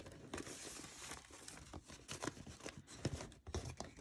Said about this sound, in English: If I'm pulling envelopes,